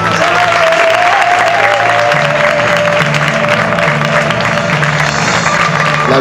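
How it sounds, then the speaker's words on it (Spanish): Loud, continuous audience applause at the 2011 presentation of the Turre Roma association, a close, dense roar of clapping with a faint tonal hum or voices running underneath. "tenemos que dar un gran aplauso"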